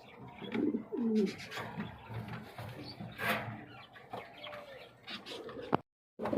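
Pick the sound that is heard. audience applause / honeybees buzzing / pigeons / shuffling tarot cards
pigeons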